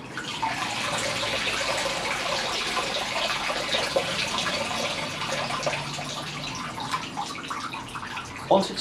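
Water draining steadily from a Lay-Z-Spa hot tub filter, a continuous close splashing trickle that runs without pause throughout, ending with a brief louder splash.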